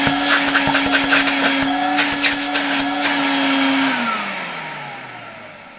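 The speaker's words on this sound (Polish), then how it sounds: "Tutaj bardzo mocno zasysa powietrze." A Zelmer vacuum cleaner runs with a loud, steady whining hum while sucking air hard. Brief rattling clicks come early on, then the motor tone sags and drops lower toward the end.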